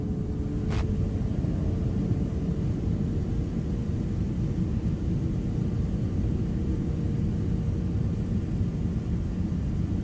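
Steady low rumble of a jet airliner taxiing toward the gate at New York JFK, a continuous engine drone with a faint tonal hum and one brief click near the start, no voices.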